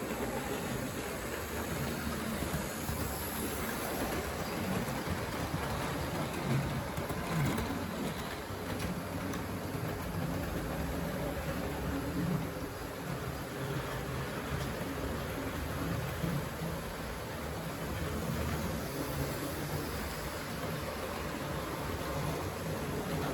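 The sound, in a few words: Hornby Class 43 Intercity 125 model train running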